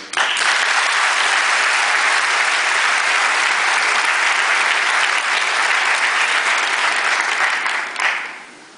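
Graduating class of 2009 at Earl Haig applauds during a graduation ceremony, a loud, dense, sustained round of clapping from a large crowd that fades out near the end.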